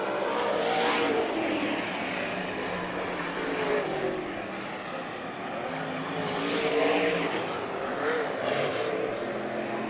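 Late model race cars at the 2018 Budweiser Nationals roar around a dirt track. A loud, continuous engine drone swells and fades as the pack passes, with overlapping revving from several cars.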